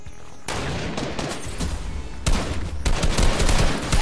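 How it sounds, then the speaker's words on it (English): Video game gunfire: a dense, continuous fusillade of rapid shots at steady loudness, with a second heavier burst partway through. "Someone is shooting here."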